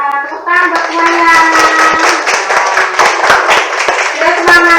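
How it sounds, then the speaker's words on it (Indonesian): A group of children in a classroom claps in a quick, energetic burst, sharp hand strikes overlapping under a sustained sung or chanted voice, close and loud for several seconds. "Tepuk tangan buat semuanya."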